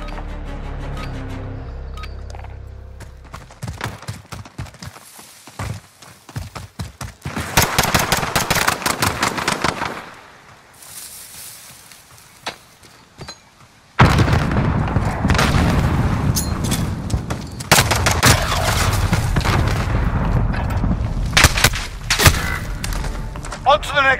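Gunfire in a Modern Warfare video game, dense volleys of rapid shots and booming blasts rolling on and off, with a calmer stretch in the middle before heavy firing resumes, under occasional talk.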